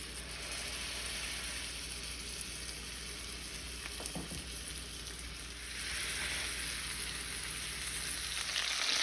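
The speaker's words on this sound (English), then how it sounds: "I'm just going to be searing the meat. So I'm going to put its skin down." Chicken seared skin-down in melted butter and olive oil in a pan, a steady close sizzle and crackle that swells louder toward the end, with a brief scrape of movement midway and no voices.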